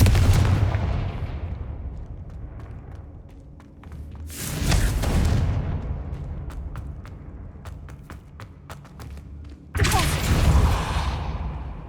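Fire spells burst in Hogwarts Legacy, two loud explosive blasts each fading into a rumbling tail, with sharp ticking clicks between them.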